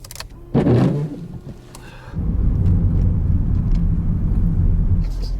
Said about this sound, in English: I'm driving to Exeter now, an hour's drive